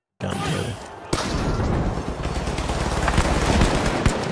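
Video game gunfire as a player practises a gun's recoil pattern: sustained rapid shooting with sharp shot transients over a dense, loud rumble, opening abruptly and continuing without pause to the end.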